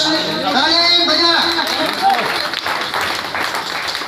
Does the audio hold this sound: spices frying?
no